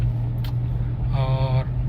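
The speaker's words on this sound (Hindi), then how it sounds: "ये थर्ड गियर में हमारी गाड़ी चल रही है" A car engine hums steadily in third gear during a driving lesson, a constant low drone heard from inside the cabin, with a short tonal whine rising over it near the end.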